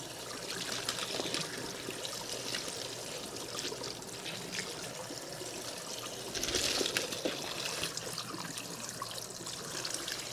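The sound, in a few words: water running over frozen potatoes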